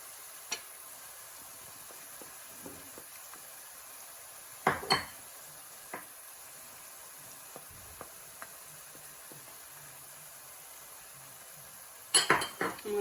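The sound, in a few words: stirring onions and spices frying in a pan for lamb samosa filling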